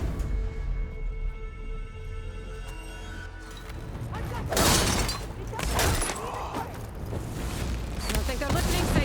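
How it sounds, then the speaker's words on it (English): A cannon fires in the video game Horizon: Burning Shores, sudden booms and shattering crashes rising from a tense rumbling backdrop, with voices heard among the blasts. "Never seen a cannon like that before."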